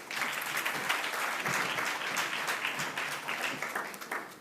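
A summit audience at a social development partnership event breaks into a steady round of applause, dense clapping filling the room from start to finish with no voices over it.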